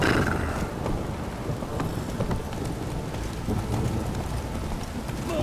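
Steady rain hiss fills the clip with a low rumble of thunder beneath it in The Witcher 3, constant and enveloping, with no talking.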